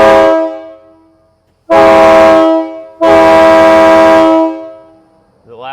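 K3 train horns on a Peterbilt semi truck blast three times, a short opening toot followed by two long, very loud chord-like blasts with ringing decay between them.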